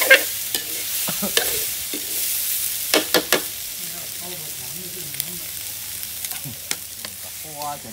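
Eel being dry stir-fried in a pan for a northern Thai curry, sharp clattering spatula strikes and scrapes over a light sizzle, with someone talking at intervals.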